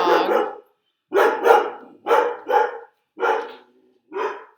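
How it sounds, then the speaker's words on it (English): A dog barks in five or six loud, close, separate bursts, each about half a second to a second long with short pauses between, and no other sound around them. "don't mind the dog."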